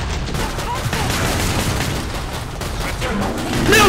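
Rapid gunfire blasts away at zombies in a frantic zombie shooter game, a dense, continuous barrage of shots and booms filling the whole stretch with little pause, with a voice faintly mixed in.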